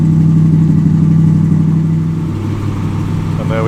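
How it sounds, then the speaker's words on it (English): A throaty Triumph Stag V8 engine runs loud and steady, a deep low rumble holding at a constant pitch, then easing slightly and rising again toward the end. "Just listen to that V8"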